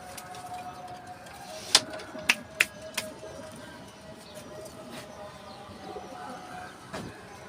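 Pigeons coo softly in a loft, low murmuring calls beneath a few sharp, close clicks and knocks early on, with a faint background hum throughout.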